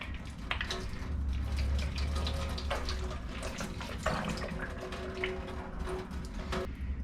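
Running tap water, well water from the faucet, splashing steadily over a vinyl record held under the stream as it is rinsed, a continuous close hiss with shifting splatter and no talk.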